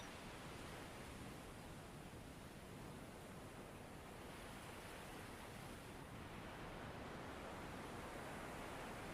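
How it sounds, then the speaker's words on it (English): Surf washes onto a beach shore in a dense, steady roar of breaking water, continuous and even with no clear gaps, fairly faint and without voices. "listening to the sound of the surf, watching the waves ebb and flow with the rhythm of your breath."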